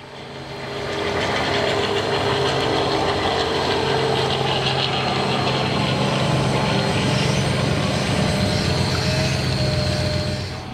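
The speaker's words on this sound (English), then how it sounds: "today there's a day of helicopters landing around the boat, flying and doing tourist rides" A steady, heavy roar of tourist-ride helicopters flying around a boat drones on continuously, rising in from quiet and holding loud throughout with no talking.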